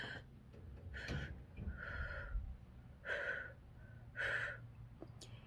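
Slow, deep breaths from one person, roughly four drawn-out, breathy inhales and exhales spaced a second or so apart, heard up close with no talking.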